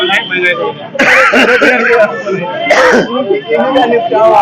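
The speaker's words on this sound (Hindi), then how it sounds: "आप देखिए मैं बोलते बोलते खांस रहा हूं" A man coughs and clears his throat in a few harsh, close bursts, with voiced rasps between them.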